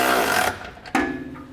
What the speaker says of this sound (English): We're going to use a 17mm socket for these.